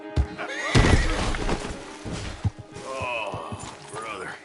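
A horse whinnies loudly up close, with a few hoof thuds and clip-clops around it, and a voice calls out over the animal.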